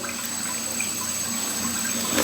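Water drains steadily from a laundry sink toward a clogged toilet line, a continuous close splashing trickle with no talk.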